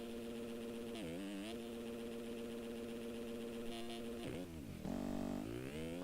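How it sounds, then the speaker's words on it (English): A dirt bike engine in the MX Simulator motocross video game buzzes at high revs, bouncing off the rev limiter, its pitch dipping and climbing sharply as it rides. The sound is faint and continuous, with no talking. "just all over that rev limiter"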